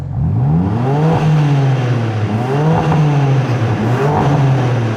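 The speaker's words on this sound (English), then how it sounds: "The car is now warm, so let's hear some more revs, some higher revs." A warmed-up BMW M4 engine revs hard and high in a continuous loud run, rising and falling in several swells close to the listener, with no talking.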